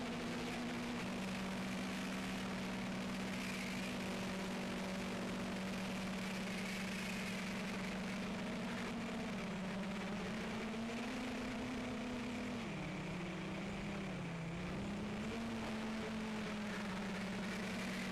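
An MJX Bugs 3 quadcopter drone flies low between trees, its steady motor whine droning continuously with pitch dips and rises as the throttle changes, fairly faint and without voices.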